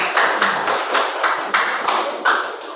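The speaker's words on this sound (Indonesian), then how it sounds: "beri tepuk tangan untuk kelompok 4 dan kelompok 1" Students in a classroom clap for presenting groups, a dense, steady patter of many hands sustained for a few seconds with regular swells, fairly close and loud, no talk over it.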